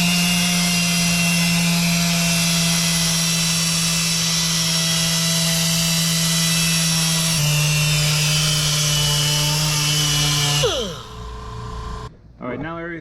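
A power sander whirs steadily and loudly against an aluminum wheel being finished with 1500-grit abrasive, a sustained high whine that shifts pitch midway and then spins down near the end, with voices heard over it.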